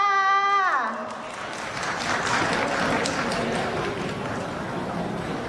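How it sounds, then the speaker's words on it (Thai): Audience applause at a cosplay convention award ceremony, a dense steady clapping from a crowd that follows a brief voice and holds for several seconds. "ขอเสียงปรบมือด้วยค่ะ"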